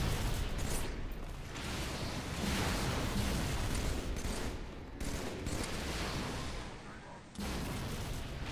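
Rocket fire and blasts against wire mesh in Halo 3, a dense, continuous barrage of booming impacts and crackling debris with brief dips near five and seven seconds, loud and close.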